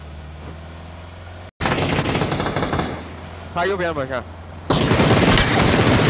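Rapid automatic gunfire from a video game firefight rattles out in loud, dense bursts, broken by a brief silent gap, while players talk over it.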